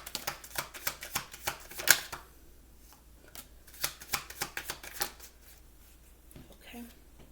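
Oracle situation cards are shuffled in a quick series of crisp riffling bursts, close and fairly quiet, pausing briefly midway before resuming.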